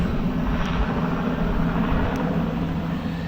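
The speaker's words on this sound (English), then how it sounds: "EasyJet Dubrovnik flight inbound next." An EasyJet jet arriving at Gatwick Airport gives a steady, loud broadband engine roar with a low rumble, holding even throughout without any talk.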